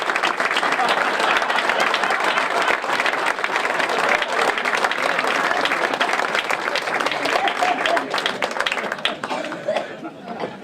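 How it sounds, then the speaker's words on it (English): Sustained loud applause from a dinner audience giving a standing ovation, dense steady clapping with scattered voices, tapering off toward the end. "That big round of applause for Vinnie"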